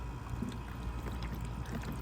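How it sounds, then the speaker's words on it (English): Coolant from a Yamaha Royal Star Venture motorcycle, looking more like water, drains in a steady, soft trickle and splash into a bucket. "So that's gonna go into a bucket."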